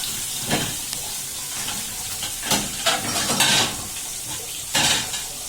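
Big rohu fish belly pieces sizzle in hot oil, a close, steady crackle broken by a few louder bursts and light clinks of utensils.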